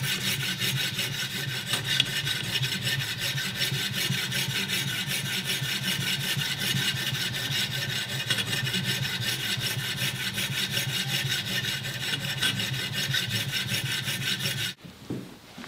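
Hairdressing scissors, steel or titanium, are rubbed on a fine 3000-grit sharpening plate, giving a continuous, even scraping rasp close up that runs almost unbroken for about fifteen seconds before stopping abruptly.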